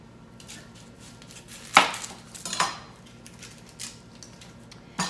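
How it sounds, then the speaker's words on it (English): A knife cuts through an onion on a board in a home kitchen, with a few separate, crisp, nearby chops spaced irregularly over a low steady hum. No voices are heard. "Chop our onion. So we are going to need 1 onion thinly sliced."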